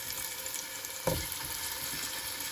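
Carrots frying in a pan make a steady, moderate hiss of oil sizzle, with one brief, louder sputter as something hits the pan partway through and no talking.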